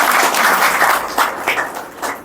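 Scattered audience clapping at a spiritual talk on Shivratri, a short burst of hands that is loudest at first and then breaks into uneven, fading bursts.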